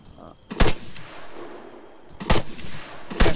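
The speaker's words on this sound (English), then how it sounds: "That's me shooting at him." Heavy .50 cal rifle fire in a video game set in the Sa-Matra Wasteland, three sharp, loud single shots spaced about a second or more apart over a low ambient bed.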